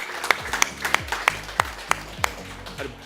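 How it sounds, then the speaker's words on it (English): Audience at a Tecno device launch event claps in a thin, sparse round of applause, with a handful of distinct, fairly close hand claps spaced irregularly over a few seconds. "Another round of applause for Dr. Esther Mushemi."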